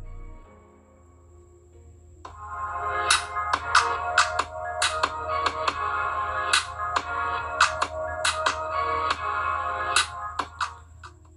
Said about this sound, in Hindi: जैसा कि आपने बैकग्राउंड म्यूजिक सुना